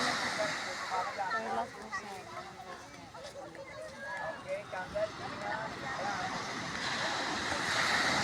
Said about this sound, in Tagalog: Lakas ng alon, no?